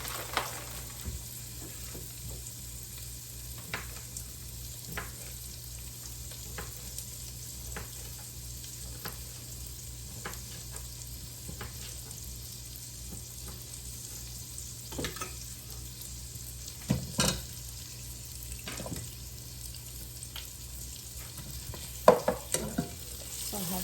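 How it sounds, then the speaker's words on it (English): Sausage browning in a frying pan on a stovetop set to 8, with a quiet, steady sizzle and sporadic soft stirring taps and scrapes. "So I have the sausage in the pan, and I'm browning it up"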